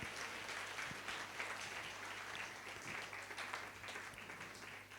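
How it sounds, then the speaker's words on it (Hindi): Church congregation at a Sunday service in Karimnagar clapping together, a steady, even wash of many hands applauding throughout, fairly faint and without pauses. "ताली बजाएंगे उस हाथ के लिए।"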